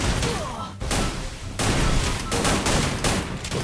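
Gunfire and grenade explosions from a video game arrive as dense rapid bursts of shots with a few heavier blasts, loud and continuous across the short stretch.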